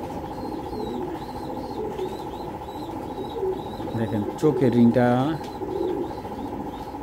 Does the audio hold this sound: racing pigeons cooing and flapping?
yes